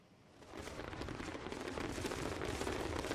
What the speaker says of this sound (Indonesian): Pertunjukan kembang api yang meriah dengan roket meledak tinggi di atas Sungai Ganjiang